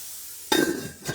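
A hamburger patty laid into a hot pan, a sudden burst of sizzling that starts midway and keeps crackling, with a faint clink near the end.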